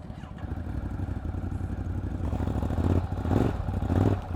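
A 2018 Ducati Monster 821 motorcycle engine runs at close range, a steady rumbling idle that swells in a few brief throttle blips toward the end, with no talking.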